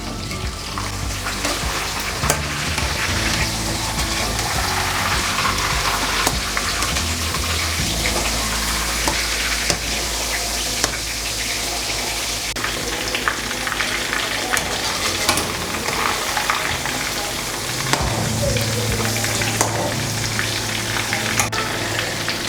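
Chicken fries in oil in a home kitchen, with a dense, steady sizzle and crackle broken by occasional stirring clatter, loud and close with no talk.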